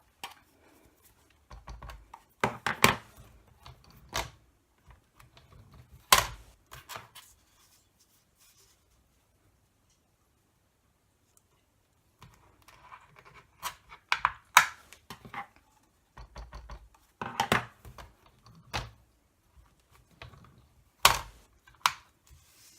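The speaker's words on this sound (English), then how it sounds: "And I just keep inking and stamping and moving the paper about until I'm happy." A rubber stamp is inked and pressed onto card in a Stamparatus stamp positioner, giving bursts of sharp taps and clacks separated by quiet pauses, close and alone with no talk.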